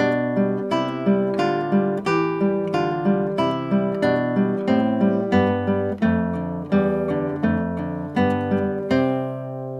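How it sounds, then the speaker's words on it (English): Classical guitar plays a scale exercise in moving sixths, two-note plucked intervals stepping along in an even, steady rhythm, close and clear with no talking. "if you're not used to those moving sixths on the guitar, you can make a little exercise out of that scale"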